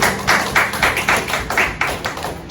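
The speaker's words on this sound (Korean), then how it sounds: "내 함께 영광의 박수 올려주십시오." A church youth congregation applauding together at the end of a prayer during worship, a steady broadband clatter of many hands clapping with rhythmic swells, close and without speech.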